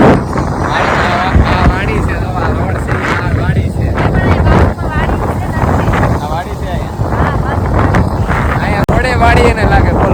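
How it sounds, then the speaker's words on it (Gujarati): Strong, cold wind on a ring road roars and buffets the microphone in loud, continuous gusts, with a voice talking underneath. "પવન અત્યારે બહુ છે, ઠંડો અહીંયા બહુ ઠંડુ લાગે છે."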